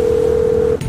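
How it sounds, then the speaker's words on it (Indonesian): A single steady dialing tone sounds on a phone in GTA 5 while calling for a driver, holding for most of a second before cutting off into a brief click. "Aku telepon dulu supirnya."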